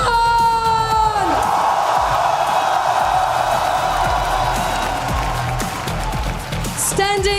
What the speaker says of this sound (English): Mesdames et messieurs, du bruit pour T1!